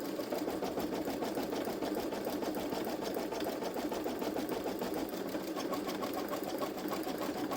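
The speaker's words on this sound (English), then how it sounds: "When that's done stitching out" A Baby Lock Solaris embroidery machine stitches out metallic thread on a t-shirt, giving a steady, rapid, loud mechanical chatter that runs unbroken throughout.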